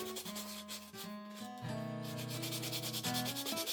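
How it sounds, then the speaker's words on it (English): Hand sanding a balsa wood knife sheath for a puukko with 80 grit sandpaper, a steady close rubbing scrape that runs continuously without speech. "Got a piece of 80 grit here. I'll just eyeball it and sand it."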